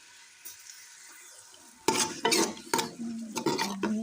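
Finely chopped onion tipped into half a cup of hot oil in a pressure cooker, bursting into a loud sizzle after a quiet start, followed by several scraping stirs and clinks of a spoon against the metal pot.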